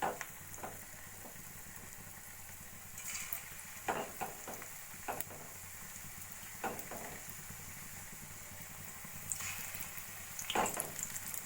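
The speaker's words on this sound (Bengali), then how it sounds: "একইভাবে আমি বাকি পকোড়াগুলো ভেজে নেব" Coriander leaf pakoras fry in hot oil with a steady, close sizzle, broken by a few sharper crackles and light utensil clatters.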